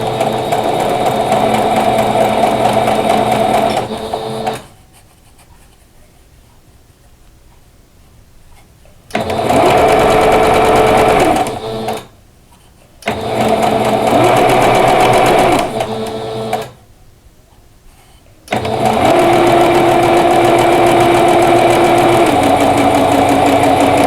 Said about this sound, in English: And then I'm going to sew that